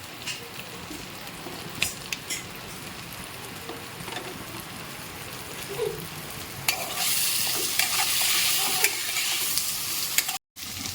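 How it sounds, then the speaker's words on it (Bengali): Thin-cut potato strips fry in a pan, giving a steady close sizzle broken by occasional stirring clatter, growing louder and brighter in the later part before a short dropout. "এবার এই আলুগুলোকে একটু ভেজে নেবো"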